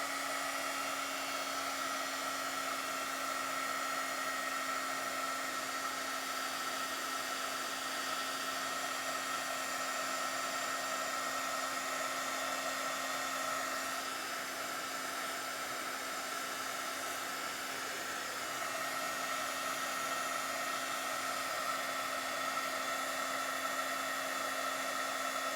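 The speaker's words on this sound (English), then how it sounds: "now I'm gonna bring in my heat tool and heat this up" A heat tool blows steadily on embossing powder on a handmade shaker card, giving a constant whirring hiss with a fixed hum that runs unbroken and fairly quiet for the whole stretch, with no talking.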